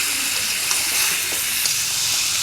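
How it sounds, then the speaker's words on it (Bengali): Chicken liver masala with chicken feet, skin and chopped tomato sizzles steadily in a pan as a little water is added, a dense even hiss of steam and frying with no talk. "সামান্য একটু পানি দিয়ে দিব"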